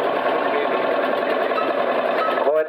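An Australian-made single-cylinder horizontal diesel tractor engine built in Ballarat, Victoria and running on crude oil chugs with a steady rapid rhythm. It stays loud and close throughout before a brief change at the very end.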